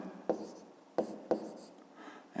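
A pen writes math on paper in three short, quiet scratching strokes, close and isolated against near silence.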